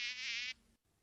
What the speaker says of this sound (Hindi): इस मच्छर का कुछ करो ना।